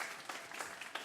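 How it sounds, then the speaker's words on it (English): Audience clapping at a kids' comedy show at the Comedy Store in Manchester, a short burst of fairly faint, steady applause with a few louder claps. "But round of applause from now there's my picture of you."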